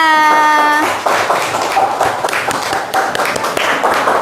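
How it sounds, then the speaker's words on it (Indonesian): A school class applauding in the classroom, a burst of many hands clapping close by that starts after a brief sung or spoken tone and continues steadily for several seconds. "Tepuk tangan semuanya."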